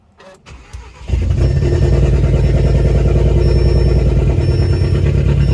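An Audi S3 engine fitted with a bigger cam cranks and catches, then settles into a loud, lumpy, uneven idle with a choppy rumble, close by and alone.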